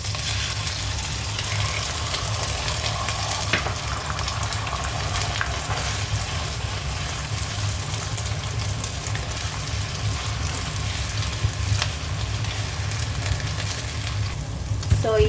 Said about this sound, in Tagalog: itabi natin to kasi magpiprito tayo ng ating itlog.